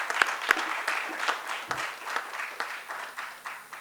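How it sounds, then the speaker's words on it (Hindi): An audience at a kavi sammelan poetry gathering claps for a poet, a few sharp near claps at the start giving way to a fuller, moderately loud wave of applause that rises and falls without talk. "एक बार जोरदार तालियां श्री सर।"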